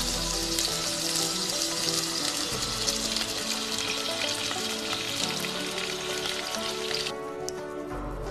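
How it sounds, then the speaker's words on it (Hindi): Chicken fries in lightly heated oil in a pan, giving a loud, continuous sizzle and crackle close up that softens slightly near the end. "उस ऑयल को हल्का सा गर्म करके अब हम इसमें चिकन को फ्राई।"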